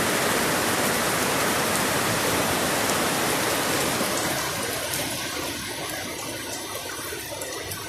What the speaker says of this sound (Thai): ฝนตกแรงมากครับผม